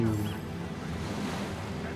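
Gentle water waves lap and wash in a Divinity Original Sin setting, a soft steady surf-like hiss under a low background hum, with a voice briefly present.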